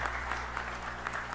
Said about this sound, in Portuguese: uma salva de palmas também para Clélia Gomes